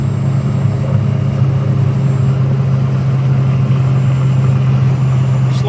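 A 1999 turbocharged Suzuki Carry mini truck cruising on a highway with a restricted exhaust, its steady low engine drone and road rumble continuing loud and unbroken throughout.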